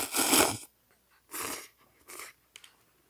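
Someone eats shrimp ramen cooked outdoors in winter with Saeukkang shrimp crackers, slurping and chewing in a few short close bursts separated by quiet pauses.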